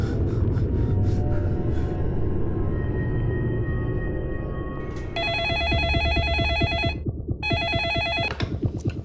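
A telephone rings for a police call, a loud electronic trilling bell in two bursts with a short pause between, following a stretch of rumbling background noise.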